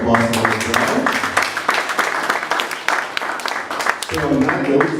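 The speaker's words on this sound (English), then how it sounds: "Round of applause for them as well." A dinner audience at a send-forth event in Abuja claps together in a dense, close burst of applause, with voices overlapping at the start and end.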